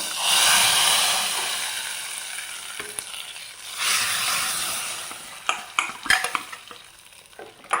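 Hot tempering of oil, urad dal and curry leaves is poured into jackfruit sambar with a loud burst of sizzling that fades, followed by clinks of a ladle against the pot and stirring.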